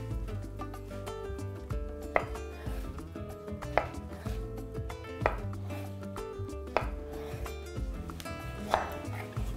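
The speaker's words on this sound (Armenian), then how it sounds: "Նույն կերպ կտրատում ենք մնացածը, օգտագործելու եմ 3 բազուկ միջին չափի։" Medium-sized beets being chopped with a knife on a board, sharp repeated knife strikes landing in an irregular rhythm over a steady background hum, close and fairly quiet, with no talking.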